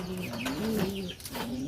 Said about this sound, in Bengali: এই যে এই পায়রাটার আবার প্রচুর ডাক, জালালি পায়রা